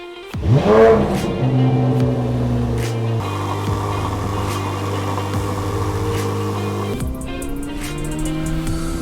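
A 2023 Corvette Z06 C8 engine revs hard and settles into a loud, steady roar, shifting pitch a couple of times with no voices.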